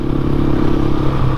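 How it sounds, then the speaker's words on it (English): Steady, loud exhaust drone from a Herald Brute 500 single-cylinder British motorcycle while riding, a constant low rumble with wind noise and no talk. "The exhaust on here has an excellent note"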